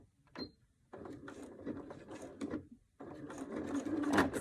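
Domestic sewing machine stitching a zipper pocket, running in two steady bursts of rapid stitching with a short pause between, close and fairly quiet, no talking.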